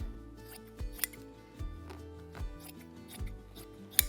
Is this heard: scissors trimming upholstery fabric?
yes